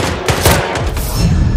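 Rapid automatic gunfire in the stealth video game Hitman, Freelancer mode, with dense loud bursts of shots rattling continuously for about a second and a half, no speech.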